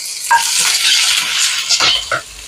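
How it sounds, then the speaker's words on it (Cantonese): Pork trotters sizzle and fry in a wok with aromatics, preserved plum pork knuckle in the making, a steady close hiss of hot oil broken by a few scraping stirs and clinks of the spatula against the pan. "爆香咗佢，咁然後跟住咧，我哋再落埋我哋嘅豬手落去。"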